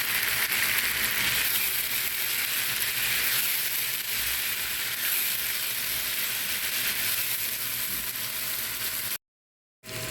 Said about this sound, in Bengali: পেস্টটা দিয়ে দেবে পেঁয়াজের সাথে পটল পেস্টটা একটু ভেজে নেবে